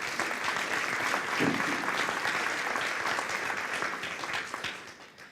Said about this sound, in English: we all, I think, in this room owe ourselves a round of applause